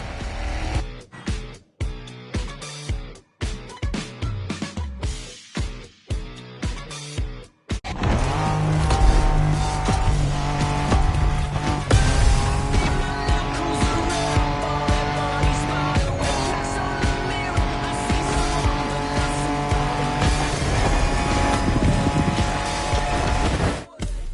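Off-road racing cars in a video game roar and rev continuously alongside a thick layer of game music, with tires squealing and skidding now and then; a choppy stretch at the start gives way to sustained loud driving.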